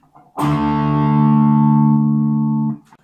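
One distorted electric guitar power chord struck hard and left ringing for a couple of seconds before being cut off, loud and heavy with no voices.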